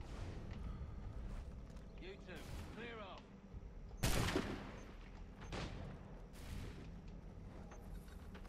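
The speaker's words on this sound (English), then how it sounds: "A lot of cannons though." Cannon fire in Assassin's Creed III Remastered, with a few heavy booms rising above a dense background of in-game battle noise, the loudest blast arriving about midway through the stretch.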